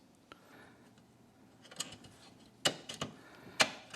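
Screws being driven down on an interlock switch mount block, with small ratcheting clicks and metallic ticks, a couple of sharper clacks near the end, close and fairly quiet.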